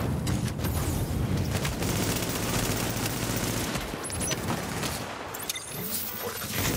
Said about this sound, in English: Hostiles are firing on fortification.